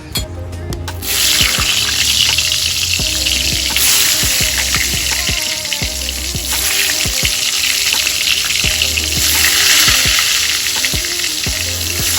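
Egg and brinjal fry in hot oil in a home kitchen, a loud close crackling sizzle that runs continuously, with low hum and occasional clinks and scrapes underneath.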